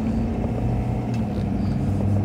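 A 20,000-pound service truck drives along small roads in Oregon, giving a loud, steady low engine rumble with road noise and no speech.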